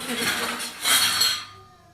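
Washed metal kitchen utensils clink and chink against each other as they are set out to drain, a close cluster of bright metallic knocks that swells mid-way and then fades.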